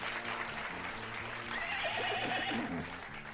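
A horse neigh sound effect plays as a stand-in for a moose, one long rising and falling whinny over a busy, steady background, fairly loud and without speech.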